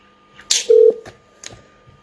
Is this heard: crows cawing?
no